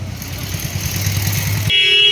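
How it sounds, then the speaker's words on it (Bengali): Busy market road in Bantala with passing buses and cars, a steady low engine rumble that swells near the end as a shrill horn blast cuts in, with no talk. "বাস ফাস যাচ্ছে প্রচুর, এই রাস্তায় গাড়ি ঘোড়া প্রচুর চলে"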